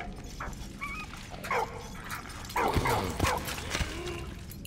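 Small dog whimpering and yipping in the Valiant Hearts video game, several short whines and yelps over a steady low background.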